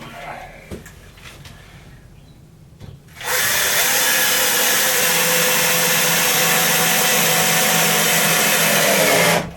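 A power drill drives screws into scrap wood for a saw stand, starting after a few quiet seconds of light handling and then whirring loudly and continuously to the end.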